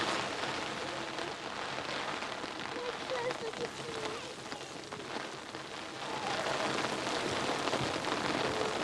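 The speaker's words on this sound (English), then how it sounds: "The rain falling down his face." Steady rain pours down in a children's outdoor scene, a dense, continuous hiss of drops on surfaces and an umbrella, fairly loud and unbroken, swelling slightly toward the end.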